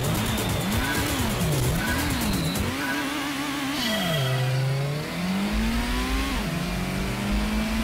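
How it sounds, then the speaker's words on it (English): Racing car engines in Gran Turismo on PlayStation rev and rise and fall in pitch through gear shifts, a continuous loud synthetic whine with tire noise, no talk. "Yep, we are playing Gran Turismo."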